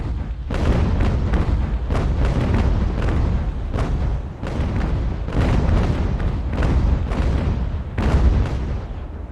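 Broadside cannon fire from sailing warships in the naval game Ultimate Admiral: Age of Sail, a dense, continuous barrage of booming shots rolling one after another, loud and close with no pauses.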